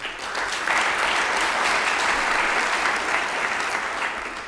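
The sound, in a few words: audience applause for conference co-chairmen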